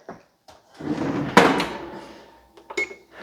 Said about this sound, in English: Let me close this oven